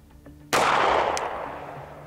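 A single close, sharp pistol shot while sighting in a new everyday-carry handgun, a sudden loud crack with a long echoing decay, alone against a quiet outdoor background.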